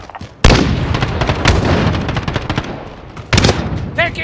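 AA-12 automatic shotgun fire in Modern Warfare 2019 on PS5: loud close blasts with a strong burst near the start and another a few seconds later, among dense combat noise and a short burst of voice near the end.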